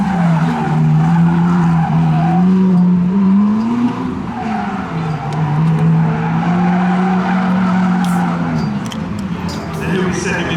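Ferrari tyres squeal and skid continuously during a track demonstration at Brands Hatch, the engine roaring loudly underneath as the pitch rises and falls over about ten seconds.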